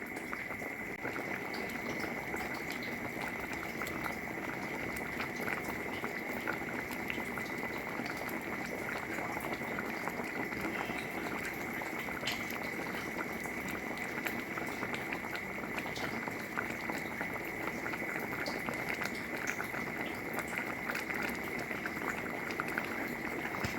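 Pork and sweet potato coconut curry boiling steadily in a pot, a dense continuous bubbling and hiss that holds level and close throughout with no pauses.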